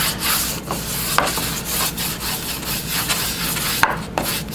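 Chrome oxide compound rubbed by hand along the grain of a balsa wood strop, a steady close scratchy rasping with brief rhythmic strokes and no voices.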